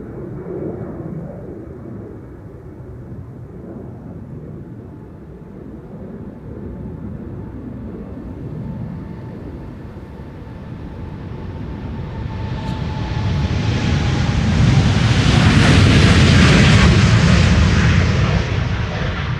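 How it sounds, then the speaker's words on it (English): A Boeing 787-10 jet on the move at Amsterdam Schiphol: a steady low engine rumble swells into a loud, broad roar as the aircraft passes close by, then holds near its peak, with no talking. "Right, the 787-10 is on the move."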